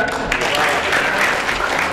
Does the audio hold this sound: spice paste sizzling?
no